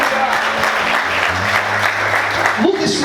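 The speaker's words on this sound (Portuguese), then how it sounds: "Mais fortes palmas." A church congregation claps loudly during a worship service, a dense burst of applause with a sustained voice or music tone running underneath and some voices mixed in.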